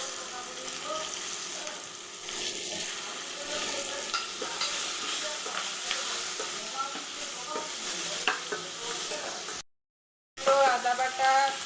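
Tomatoes sizzle and fry in a pan while being stirred, a steady close crackle with scraping strokes, a brief break near the end, then the frying resumes.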